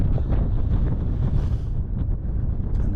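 Steady, heavy wind buffets the microphone with low rumbling gusts throughout, loud and close, with no voices, on a hilltop in the Peak District.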